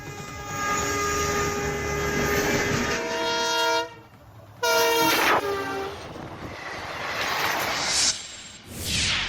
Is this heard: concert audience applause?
no